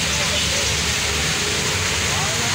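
A dense, unbroken roar of heavy rain pours down, loud and constant throughout, with faint voices buried beneath it.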